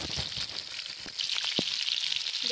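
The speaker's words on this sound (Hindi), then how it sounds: "देखिए बहुत ही अच्छा ये फ्राई हो रहा है" Bitter gourd (karela) frying in oil, a dense, constant sizzle with soft irregular popping and one brief knock, close and steady throughout.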